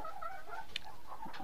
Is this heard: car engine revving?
no